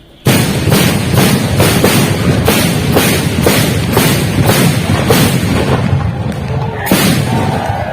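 Traditional village meriam cannons fire at night in Kampung Talang during Hari Raya, a rapid rolling series of about a dozen loud booms in near-regular rhythm, close and powerful, ending in a brief pause and one final blast.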